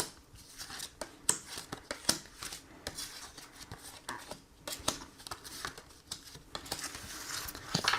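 Tarot cards are shuffled for a reading, giving irregular soft flicks, riffles and rustles of card stock at close range.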